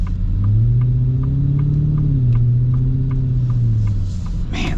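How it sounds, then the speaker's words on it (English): Custom Ford Raptor R with a supercharged engine, a deep, heavy rumble from intake and exhaust as it revs up and eases back, loud and close, with only faint supercharger whine. "You hear some intake noise and you hear the exhaust"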